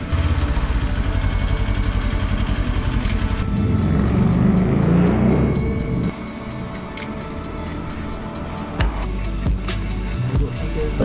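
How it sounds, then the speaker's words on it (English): A two-cylinder motorcycle with a box top exhaust revs loudly and close, the engine note rising, then dropping back toward a rough idle, with another blip near the end. "If someone asks you to rev, you rev. Even if you have a box top exhaust and two cylinders."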